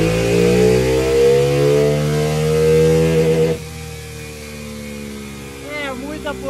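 A tuned Honda Pop 110 motorcycle engine revs hard on a dyno, its droning pitch climbing steadily before it cuts back to a lower idle, with brief rising blips near the end.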